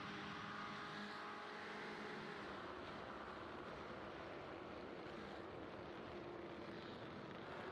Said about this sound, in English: the off-throttle sound in these cars is pretty wild. Just all the popping and rumbling that these cars do